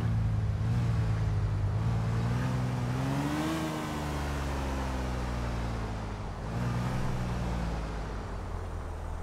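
Cars driving by in GTA IV with a real cars pack installed, a steady engine drone with revving and accelerating passes amid traffic noise, continuous and fairly close.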